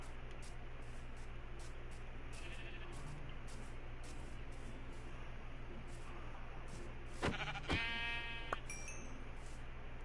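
Two short bleats from a Minecraft sheep sound near the end, clear and close, over a steady low hum and a faint repeating tick from the game.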